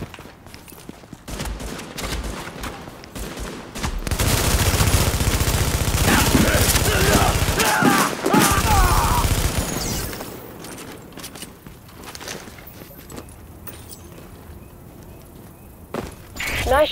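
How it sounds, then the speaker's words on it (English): Sustained automatic gunfire rattles in The Division during a firefight, bursts building into a dense, loud fusillade mid-clip before thinning to scattered shots and footsteps, with a radio-style voice briefly audible. "Nice shooting out there."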